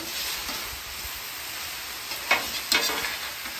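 Ground beef with peppers, onions and celery sizzles steadily in a pan, a constant close hiss, with a few spoon scrapes from stirring near the end and no talking.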